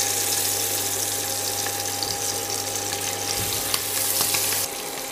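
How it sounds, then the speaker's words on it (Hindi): Boiled eggs fry in hot oil, a loud, continuous close-up sizzle with a steady low hum underneath and a few faint pops, no voices. "देखिए तेल भी हमारा गर्म हो चुका है, तो हम अंडे को डाल देते हैं फ्राई करने के लिए।"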